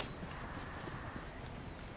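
Horse hooves clip-clop at a steady, brisk pace in the Red Dead Redemption 2 video game, a continuous patter of muffled footfalls under a dense wash of ambient game noise.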